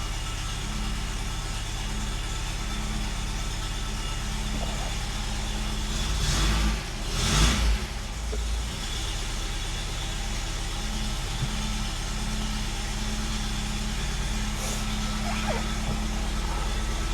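A car engine idles at around 1,000 rpm, a steady low hum with a constant rhythmic throb, close and moderate in level, briefly disturbed by a louder bump and rustle midway.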